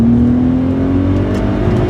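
Inside a car, either a BMW 130i or VW Golf R32, the engine drones steadily as it climbs slowly in pitch under acceleration, heard close from the cabin with no talk.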